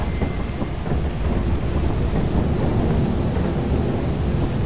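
Thunder from a storm in the Lethal Company video game rolls as a steady, loud, continuous rumble with heavy rain-like noise throughout, no voices over it.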